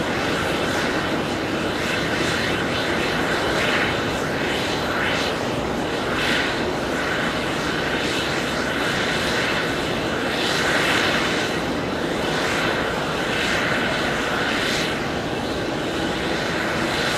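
JetBlue Embraer E190 jet departing JFK for Atlanta, a steady broad engine roar holding near and loud throughout without fading.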